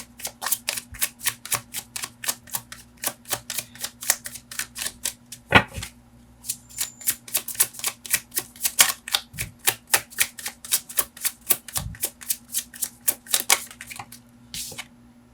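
Tarot cards are shuffled in a long run of quick, crisp riffling flicks that repeat in steady bursts, fairly close and loud, with a few heavier thumps between and no talk.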